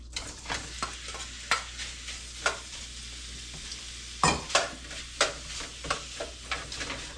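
Beef cubes for barley soup browning in a hot pan, giving a steady close sizzle with sharp crackling bursts and scrapes as the pieces are stirred and turned.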